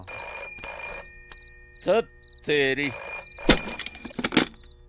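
A telephone rings in short bursts between bits of speech and other household noises, fairly close and moderately loud.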